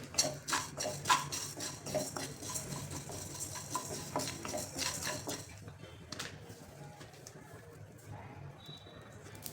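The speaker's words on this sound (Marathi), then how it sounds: "कढई ठेवली तापण्यासाठी त्यामध्ये घालायचे धने जिरे आणि बडीसोप आणि हलकंसं भाजून घ्यायचं" Coriander, cumin and fennel seeds dry-roast in a kadhai, heard as light scraping and clinking of a spatula against the pan, fairly faint, fading partway through.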